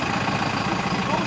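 An engine idles with a steady, loud, continuous rumble and low vibration throughout, heard close by.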